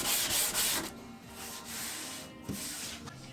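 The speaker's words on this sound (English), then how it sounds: "followed by some sanding." Hand sanding along the veneered edges of a mid-century coffee table, with steady rasping strokes of abrasive on wood at close range and no voices.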